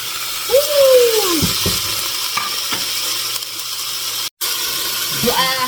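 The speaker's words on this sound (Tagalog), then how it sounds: "At ilagay ko na ang aking pork na hiniwa." Sliced pork for menudo sizzles in a pan with a low, steady hiss and scattered stirring clicks, joined briefly by a gliding tonal chirp and a moment of silence.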